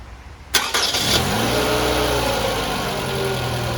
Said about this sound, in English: Let's go and start the car.